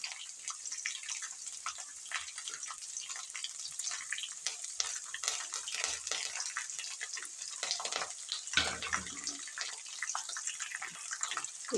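Chopped onion frying in a pan with curry leaves and green chillies while making chitranna, a steady close sizzle with occasional stirring scrapes and no talking.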